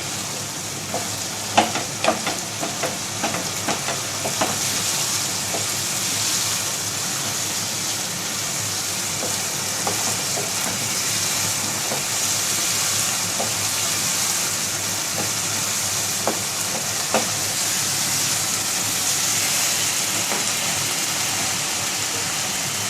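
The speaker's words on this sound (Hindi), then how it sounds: "थोड़ी देर के लिए हम इसको भून लेंगे।" Onions and minced meat fry in a pan for a keema karela dish, giving a steady, loud sizzling hiss that runs throughout with occasional light scrapes and clicks of stirring.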